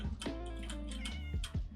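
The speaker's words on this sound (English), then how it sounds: "There's a cat." Cat meowing near a village in Minecraft, several short, close meows in quick succession with a pause between, clear and alone without talk.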